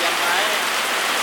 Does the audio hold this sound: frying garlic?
no